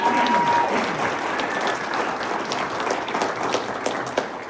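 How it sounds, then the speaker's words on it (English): An audience at a community celebration dinner gives steady, sustained applause for award winner Carolyn Flanagan, a dense, even wash of many hands clapping with no talk over it. "Give her a big round of applause."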